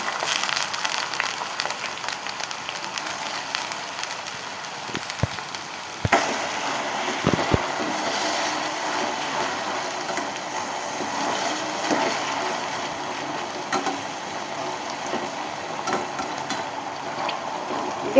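Potato pieces frying in hot oil over a low flame, a steady soft sizzle and crackle running throughout, with a few sharp clicks of utensils midway and no talk.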